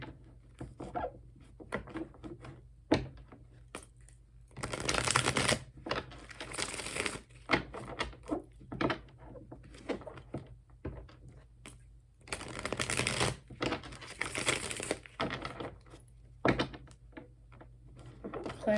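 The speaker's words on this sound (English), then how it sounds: "that Fool just wanted to stay on the bottom of the deck the entire time I was shuffling" A tarot deck is shuffled by hand, with soft papery riffles and flutters coming in bursts and pauses, close and fairly quiet, with no talking.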